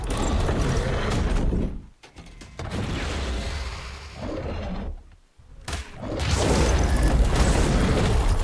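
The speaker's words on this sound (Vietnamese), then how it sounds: "kích hoạt EMP kìa vụ nổ" An EMP blast goes off in the survival game ARK: Lost Island, with deep booming rumbles and roaring noise that cut out briefly twice before swelling back loud and sustained, with no talking.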